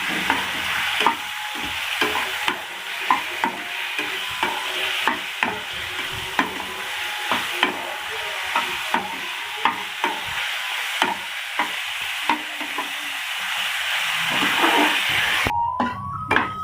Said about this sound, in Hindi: इसको थोड़ी देर अच्छी तरह भूनेंगे ताकि इसकी स्मेल ख़त्म हो जाए।